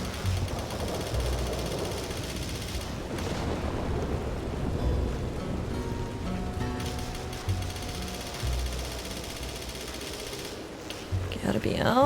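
A nighttime thunderstorm in the Western open-world game Red Dead Redemption 2: steady rain and low rumbling thunder roll throughout, with a brief sharper crackle near the end, while a voice speaks over it.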